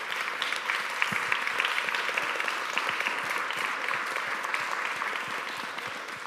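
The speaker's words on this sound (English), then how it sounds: "give a massive round of applause to our fantastic panelists" A seminar audience applauds panelists with a full, even wash of many hands clapping, steady and moderately loud throughout in a large hall.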